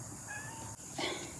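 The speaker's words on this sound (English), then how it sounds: "it's my cat." Pet cat giving a short meow indoors, moderately close and fairly quiet over a steady room hum.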